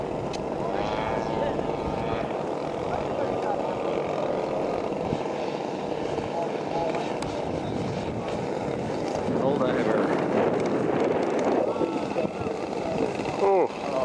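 A World War II warbird airplane flies past with a steady, broad engine and propeller roar that holds for about fourteen seconds, swelling slightly near the end, with voices faintly underneath.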